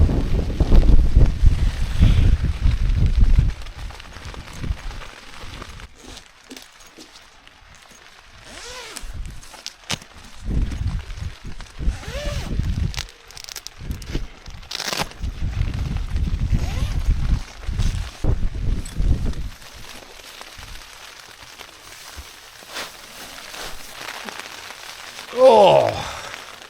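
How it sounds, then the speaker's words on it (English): Gusty wind and rain buffet a tent being pitched on a Peak District hill, coming in loud rushing bursts with quieter lulls and occasional rustling movement nearby. "that's good to get out of that wind and rain"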